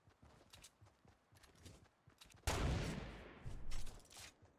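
A Desert Eagle pistol fires in the game Fortnite: after a run of faint tapping sounds, one loud, sharp shot cracks out and decays with a long, rumbling tail.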